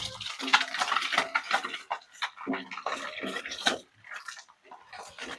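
Salt, coriander powder, masala and turmeric being mixed by hand, wet scraping and stirring strokes coming in quick irregular bursts, close and fairly loud with brief pauses.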